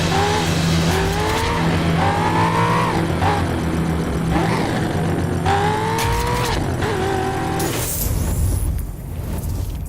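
Cars race through the streets of Miami in The Crew video game, with a loud, continuous engine roar climbing and dropping through gear changes, tire squeal and skidding, and a rushing burst near the end.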